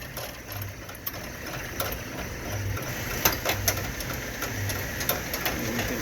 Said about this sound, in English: I'll remove this jumper and the motor down here will begin to turn.